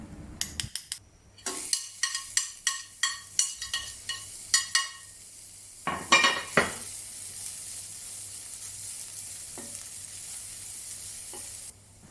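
Sliced onion hits hot oil in a pan after garlic has been sauteed, giving a burst of sizzling with a series of sharp stirring scrapes and clinks, then a steady close frying hiss to the end.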